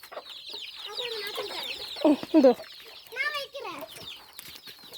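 Hens clucking and squawking close by, with a few louder rising calls in the middle and a brief word spoken over them.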